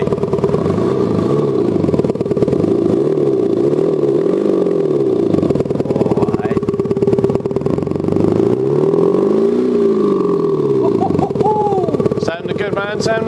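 A Milltek exhaust sound generator on a V6 Ford Ranger Stormtrak produces a loud, close engine note that revs up and down in repeated swells, with people talking and exclaiming over it.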